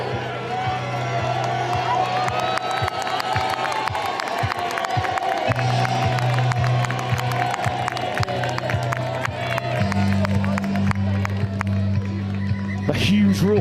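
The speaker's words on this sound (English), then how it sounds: "A huge roar goes up as the French clear their tunnel" A crowd roars and cheers as the French team clears its tunnel at the European Touch Championships finals in Vichy, France, a continuous loud wash of voices under a commentator's talk and a public-address hum.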